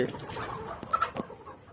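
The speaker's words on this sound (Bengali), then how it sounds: "আমার এখানে যে লেয়ার মুরগিগুলো দেখতেছেন এই মুরগিগুলো কাজির বাচ্চা।" Layer hens on a poultry farm cluck softly at close range, a few short calls rising over a quiet room hum, with no one talking.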